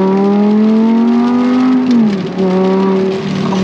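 An Audi R8 V10 engine drones steadily as the car drives in the rain, its pitch rising slowly, then dropping briefly and settling again. The sound is close, loud and continuous, with no speech.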